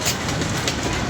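A passing train roars by nearby, a loud, dense rumble with faint rhythmic rattling from the cars throughout the short stretch, with no talking.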